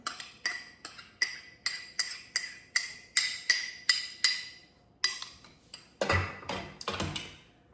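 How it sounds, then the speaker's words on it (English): Onions being dumped into a 2.5-quart slow cooker crock pot that already holds a roast: a steady series of close, sharp clinks and taps, roughly two per second, ending in a denser clatter with no talking. "I'm going to dump the onions in"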